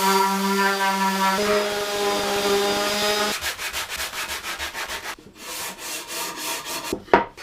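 A wooden nightstand cabinet being built during a boat refit is sanded with a power sander, close and loud. The steady whine shifts pitch as the tool presses into the wood, then turns into rhythmic rough scraping strokes.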